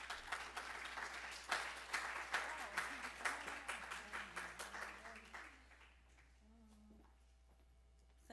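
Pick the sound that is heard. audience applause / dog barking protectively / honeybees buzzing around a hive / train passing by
audience applause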